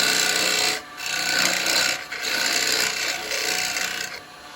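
A woodturning tool cuts into a cherry almond natural-edge bowl spinning on a lathe, giving a close, rough rasping scrape in repeated passes with short dips between them.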